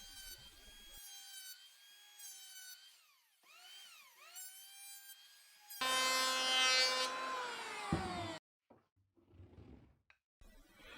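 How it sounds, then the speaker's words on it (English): An electric planer makes repeated passes over a 2x4 board: a high motor whine rises and falls between cuts, then a louder, rougher roar of blade on wood before it spins down. It is close, with no talking. "I'm just going to pass over this a couple times with my planer until I'm satisfied with the result"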